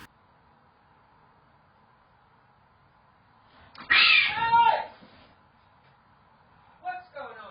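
Feral cats fighting erupt in a sudden loud burst of yowling and hissing that lasts about a second and a half. A shorter cry follows near the end, against an otherwise quiet indoor background.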